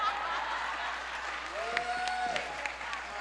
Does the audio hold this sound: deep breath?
no